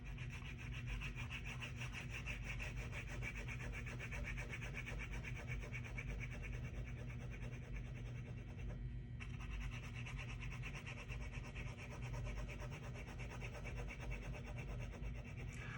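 Pencil cross-hatching a dark background layer in a wine bottle drawing, a steady, continuous scratchy rubbing on paper that runs throughout at close range with no talk.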